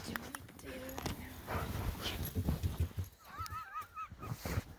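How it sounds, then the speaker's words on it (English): A dog outside an arctic root cellar in Fairbanks, Alaska, gives a few brief wavering whines and yelps amid rustling outdoor noise and scuffing, fairly close but not loud. "There's a dog that just appeared out of nowhere."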